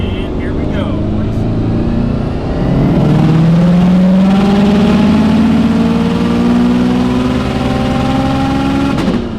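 A Subaru STI engine with a Precision 6062 turbo pulls hard in 4th gear, a loud droning roar rising steadily in pitch as it accelerates, with a voice talking over it.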